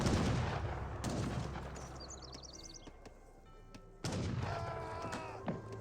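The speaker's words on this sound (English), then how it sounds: "Town firing some shots away" A town center firing shots in an Age of Empires 3 battle: sharp gunfire cracks and booms over dense battle noise, with a brief chiming flourish and another loud burst near the end.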